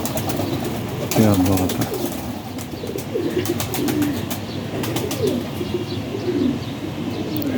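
Teddy pigeons coo steadily in a loft, soft rolling calls repeating close by over a constant background hiss, while someone briefly speaks.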